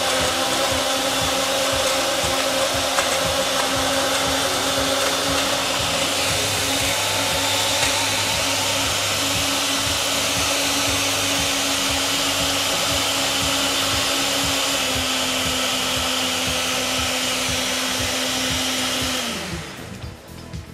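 An electric blender whirs steadily as it mixes white rum with ice, a loud and continuous motor drone that holds for about twenty seconds and then winds down at the end.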